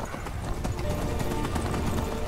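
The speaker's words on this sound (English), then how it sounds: "I think I'll just stick with normal horses." Horse hooves clip-clop steadily in Skyrim Special Edition, a continuous rhythmic trotting of a normal game horse, moderately loud and close, with no talk over it.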